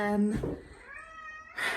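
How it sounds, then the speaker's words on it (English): A cat gives a drawn-out, wavering meow at close range, set between bits of a person talking before and after it. "the cat's back too"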